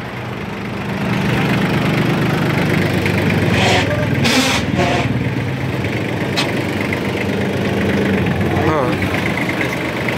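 A 4x4 mini tractor fitted with a rotavator runs at a steady idle, a continuous close engine drone with a brief voice speaking over it.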